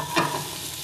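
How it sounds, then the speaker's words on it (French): Mushrooms stirred and seared in a hot pan, giving a short scrape of a utensil over a steady, bright sizzle. "Je mélange un petit peu les champignons."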